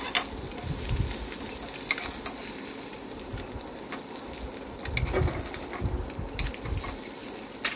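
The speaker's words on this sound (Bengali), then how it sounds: "এদিকে মাছ ভাজা হচ্ছে" Fish frying in a pan on a home kitchen stove, with a steady close sizzle and spatter of hot oil, occasional stirring and clinking, and no talk.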